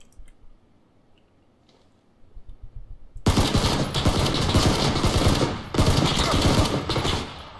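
Loud, dense automatic gunfire in PlayerUnknown's Battlegrounds erupts after a few quiet seconds and keeps going in sustained bursts with brief gaps, close and harsh.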